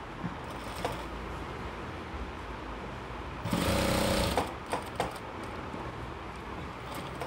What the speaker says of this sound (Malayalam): ഇങ്ങനെ വെച്ചിട്ട് ഇതൊന്ന് സ്റ്റിച്ച് ചെയ്യാം.